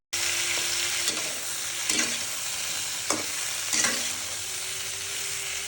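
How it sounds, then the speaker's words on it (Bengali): Small fish frying in hot oil beside simmering dal, a steady bright sizzle throughout with a few louder spatters and stirring scrapes, close and with no talk. "একদিক দিয়ে ছোট মাছগুলো ভেজে নিচ্ছি"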